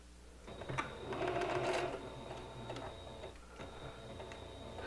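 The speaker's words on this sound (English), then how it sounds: "we're going to sew them with a 1/4 inch seam allowance" A home sewing machine stitches a back-tabbed curtain seam at a quarter-inch allowance, a steady, fast mechanical whir with rapid needle ticking that runs close and continuous, softening briefly before resuming.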